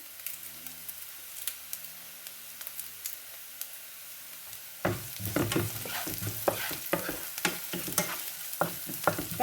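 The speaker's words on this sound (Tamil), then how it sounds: "அடுத்தது வெங்காயத்தை போடுவோம் இப்போ செத்த மிளகாய் நுள்ளி போடுறேன்" Onion and broken dried red chillies frying in a pan: a quiet sizzle at first, then a louder burst of hissing and crackling with stirring scrapes partway through, close up, with no voices.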